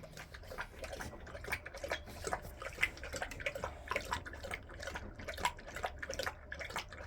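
A dog named Remy laps water in quick, irregular wet slurps and drips, close and moderately quiet, with no talking.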